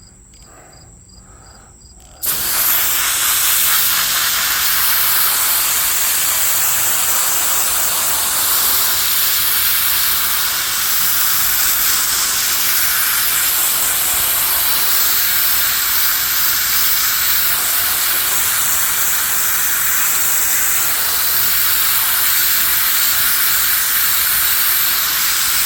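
Water spray rinsing a polisher pad, a loud, steady, close hiss that starts abruptly after a short quiet moment and continues unbroken.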